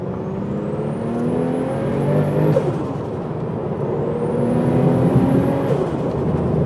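An RWB wide-body Porsche 911 Turbo with big boost accelerates on a dual carriageway, its engine pitch rising twice through the gears as the turbo whistle spools up, loud and close from inside the car.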